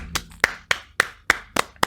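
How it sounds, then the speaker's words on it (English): Seven sharp hand claps in a quick, slightly uneven rhythm, close and crisp, with short silences between them. "Should we clap?"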